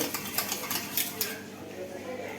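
A spoon stirs methi gota batter in a bowl with quick, rhythmic clinks and scrapes. The sound is brisk and close at first, then settles into a softer, steady swirl.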